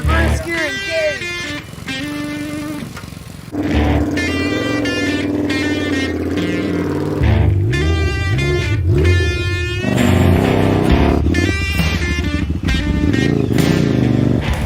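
A Monster Chopper motorcycle engine hums and revs loudly and up close while the bike moves in reverse gear, its pitch shifting as it goes, with people talking over it throughout.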